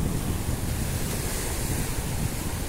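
Sea waves breaking steadily on a beach in Montenegro, a continuous loud wash of surf with wind noise on the microphone and no voices.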